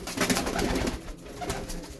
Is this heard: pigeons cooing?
yes